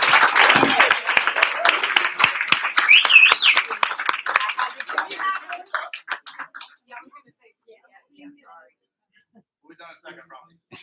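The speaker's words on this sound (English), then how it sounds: "All right, can we have another round of applause for our new judge?" Applause for a newly sworn-in judge at a township committee meeting: a burst of clapping and cheering with voices, tapering off into scattered claps and near silence.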